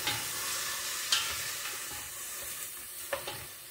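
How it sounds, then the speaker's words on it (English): Onions, celery, carrots and garlic cook in a soup pot, giving a low, steady sizzle with soft stirring scrapes and a few brief clicks, fairly quiet throughout. "then you're going to put your onions, celery, carrots, and garlic in to cook."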